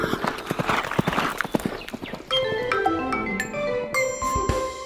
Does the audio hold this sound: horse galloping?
yes